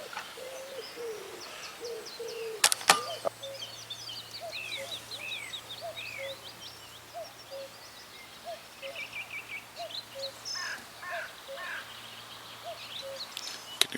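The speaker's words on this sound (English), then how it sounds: "Can you hear that cuckoo going in the background" A cuckoo calls faintly in the background at a carp fishing lake, its soft hooting notes repeating over steady outdoor ambience and other distant birdsong.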